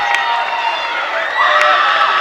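Student section at a high school basketball game chanting in unison, a loud sustained wall of young voices filling the gym, close and continuous with no break.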